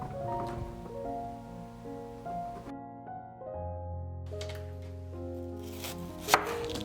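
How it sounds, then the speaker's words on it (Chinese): A knife chops green onion on a cutting board in quick, crisp repeated taps, set against a soft background music bed with a brief sharper knock near the end. "一小段大葱先切成丝，再切成葱末"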